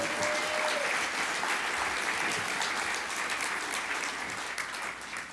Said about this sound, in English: Keep applauding for David's legacy.